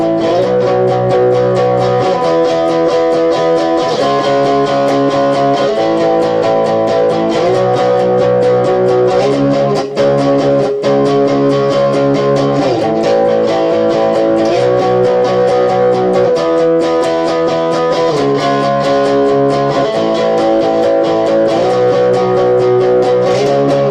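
An electric guitar plays the chorus of a song, a steady distorted strummed chord pattern that shifts between chords continuously and loudly, with no voices.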